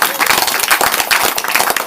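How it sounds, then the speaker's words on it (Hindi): A church congregation claps together during a Hindi-language worship service, dense rhythmic hand claps filling the space, loud and close with no voices on top. "ताली बजाएंगे हमारे।"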